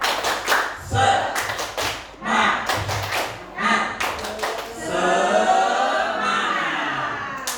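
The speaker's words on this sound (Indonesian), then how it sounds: "Tepuk semangat." Group clapping in rhythm in a classroom-style spirit clap exercise, sharp synchronized claps in short patterned bursts, followed by voices chanting together toward the end.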